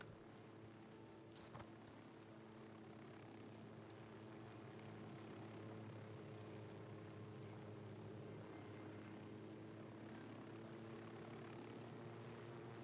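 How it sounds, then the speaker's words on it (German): A steady, droning engine hum of a helicopter flying overhead in the video game Ghost Recon Wildlands persists throughout, constant and moderately loud with a faint rhythmic rotor pulse, no voices. "Fällt schon auf, wenn Heli die ganze Zeit irgendwo über irgendwelche Leute rüberfliegt."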